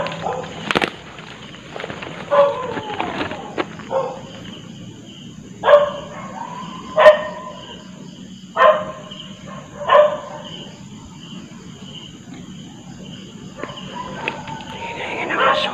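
A dog barks in short separate bursts, several times at irregular intervals, fairly near, over outdoor background noise with some faint voices, in a public cemetery in Opol, Misamis Oriental.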